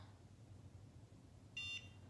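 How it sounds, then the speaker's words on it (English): A NuFACE Trinity facial toning device with the ELE attachment gives a single brief, clear electronic beep, close and tonal, over a quiet low hum near the end of the moment. "hold, and then glide it until you hear the beep"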